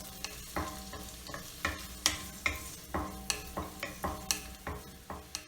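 Ginger and garlic sauté in melted butter while a utensil stirs with steady, rhythmic scrapes against the pan over a quiet, continuous sizzle, close and fairly soft.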